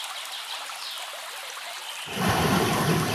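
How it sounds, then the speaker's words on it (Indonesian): River water flows with a soft, steady trickling rush, then the sound abruptly swells into a louder, fuller broadband roar of moving water, with no talking. "Seperti anak-anak lihat sungai ini. Air sungai ini tidak hanya berhenti di satu tempat, tapi mengalir ke tempat lain."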